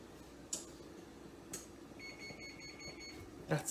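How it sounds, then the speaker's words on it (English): Kitchen oven gives a faint series of short, evenly spaced electronic beeps in a quiet room during baking, with a few soft clicks and handling knocks around it. "That's the sound of the oven."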